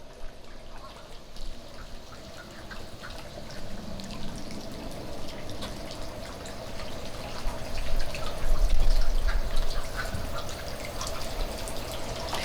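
A garden fountain in a courtyard-style garden splashes and trickles continuously at close range, swelling a little louder near the end.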